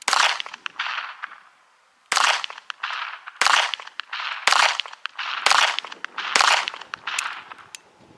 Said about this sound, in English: I'm going to shoot this right-handed